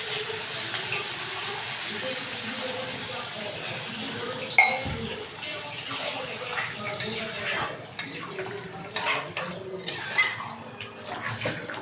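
Water splashes and trickles steadily into a cooking pot of potatoes for a Nepali-style sagolipetu gravy, with faint clinks of a metal pot and utensil knocks growing more frequent toward the end.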